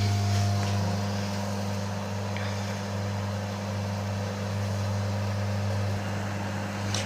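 A black Daewoo 700W microwave oven runs steadily with a low, constant mains hum and a smooth whirring drone, close and moderately quiet with no talk.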